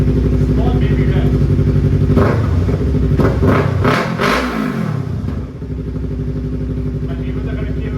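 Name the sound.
Yamaha R3 motorcycle full system exhaust revving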